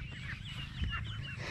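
Farm ducks calling near irrigated water, a few nasal honking quacks rising over a low rumbling background at moderate distance, with no voices.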